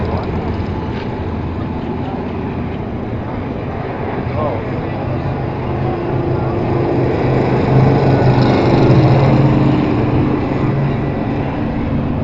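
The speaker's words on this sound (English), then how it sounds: "midget that you see on the backstretch now was powered by a Ford V8 60 engine" A vintage midget race car powered by a Ford V8 60 engine drones past on a speedway backstretch during an old-time race car parade, its engine note rising gradually, with a public-address voice talking over it.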